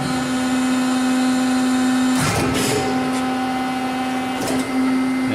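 Lauffer RMT 100 high-speed straight-side hydraulic press running an auto cycle: a steady loud mechanical hum with a strong tonal drone, broken by two short bursts of clanking and hissing as the ram moves.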